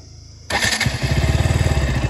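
A KTM RC 200 motorcycle engine bursts to life after a quiet moment, then runs with a rapid, loud popping exhaust rattle from a loose, broken silencer close to the microphone.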